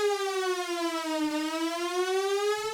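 A synthesizer tone with a rich stack of harmonics slides slightly down and then steadily rises in pitch, a smooth sustained siren-like sweep heard alone.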